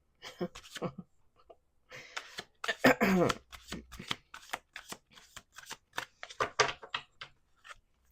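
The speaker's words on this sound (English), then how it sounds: "Let me do one more shuffle here." Playing cards are shuffled repeatedly, crisp riffling bursts and snaps in quick irregular succession, close and clear with brief pauses between.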